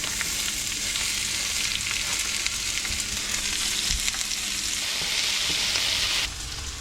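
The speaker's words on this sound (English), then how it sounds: "We're going to get a good sizzle." Food fries in hot oil with a steady, loud, crackling sizzle that runs unbroken and shifts slightly in tone near the end, with no voices.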